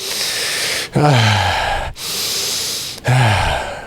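Two slow, deep breathing cycles, each a long airy inhale followed by a breathy, sighing exhale, close and clear with no talking.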